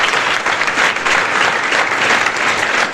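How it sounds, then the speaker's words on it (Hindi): An audience claps in steady, dense applause at a motivational student gathering, sustained and close for the whole stretch. "जोरदार तालियां बजाइए उनके लिए भी।"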